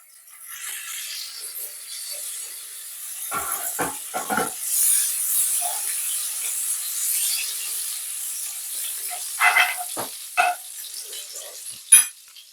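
Butter melting in a hot pan for a caramelized apple and walnut dessert gives a steady, soft sizzling hiss, broken by a few sharp clatters of utensils against the pan.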